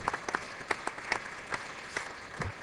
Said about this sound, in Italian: al quale io credo sia doveroso un applauso